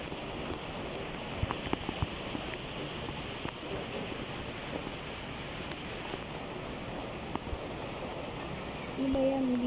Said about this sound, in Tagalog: Umuulan eh.